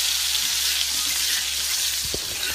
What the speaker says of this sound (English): You want to get the one side like good and seared.